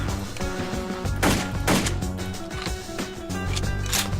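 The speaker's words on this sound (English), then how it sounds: "So pull the trigger and it fires. So run through a couple rounds here quickly." Kel Tec PLR-16 semi-automatic pistol fired in World of Guns: a few separate sharp shots spaced about half a second apart over steady mechanical background music, moderately loud and close.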